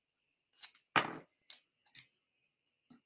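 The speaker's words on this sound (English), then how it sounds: "let's die cut these pieces out" Paper pieces pass through a die cutting machine, giving a handful of sharp, separate crunching and clicking snaps spaced irregularly over a few seconds, close and fairly quiet with silence between them.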